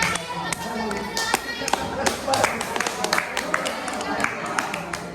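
Junior high school students in an Islamic religious education class clap for a student group: scattered, uneven claps in a busy, reverberant classroom, with voices chattering underneath.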